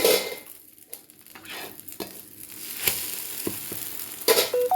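An omelet with green chillies frying in a pan, a close, soft sizzle broken by spatula scrapes and occasional clinks against the pan, with no voices.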